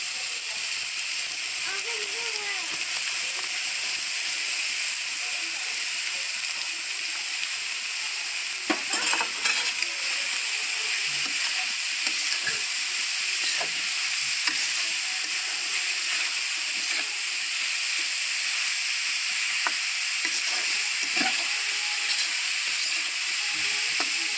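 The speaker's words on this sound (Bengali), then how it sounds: "আমি প্রথমে এখানে দিয়ে দিচ্ছি সাদা তেল এর মধ্যে আমি দিয়ে দিচ্ছি বাঁধাকপি কুচিগুলো" Chopped cabbage stir-frying in white oil for a vegetable momo filling, a loud steady hissing sizzle throughout with occasional scraping stir strokes.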